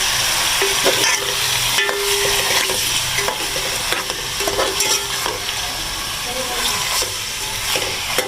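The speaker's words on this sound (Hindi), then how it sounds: "थोड़ा चिकन को भून लें फिर हम इसके अंदर मसाले डालेंगे" Chicken fries with garlic paste in a pan, giving a dense, continuous sizzle and hiss with repeated scraping stirs of a spoon, close and fairly loud throughout.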